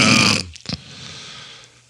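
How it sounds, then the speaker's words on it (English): A loud, close burp rolls out in the first half second, followed by a short guttural grunt and then quiet room tone. "Burp track."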